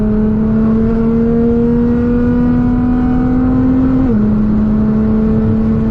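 A Nissan GT-R cruises at very high speed on an unrestricted German autobahn, its engine droning in a loud steady tone that climbs slowly, then drops as the revs fall, with wind and road roar beneath.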